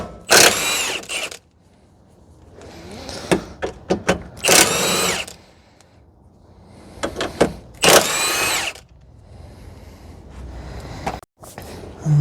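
Power tool, likely an impact wrench, removing the two nuts and one 17 mm bolt on the passenger-side control arm of a 2010 Toyota Corolla 1.8 during CV axle replacement; four loud, close bursts of several seconds each, separated by quieter pauses.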